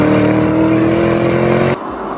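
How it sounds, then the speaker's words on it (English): Lamborghini Urus with 641 horsepower driving on snow and ice in a racing video game, a loud, steady droning engine note that abruptly drops to a quieter hum near the end. "I'm currently driving on snow and ice in a car that has 641 horsepower rampaging around underneath its bonnet"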